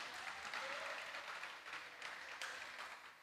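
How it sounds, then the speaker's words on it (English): Fairly faint applause greets a tall primary-school boy walking forward at a schools jingle competition, with uneven clapping that swells in bursts and scattered sharper claps within the crowd. "Give him a round of applause as he comes."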